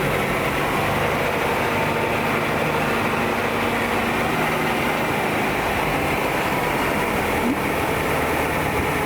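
A 1967 International Scout 800 engine idles with a steady, dense rumble, loud and unbroken for the whole stretch with no talk.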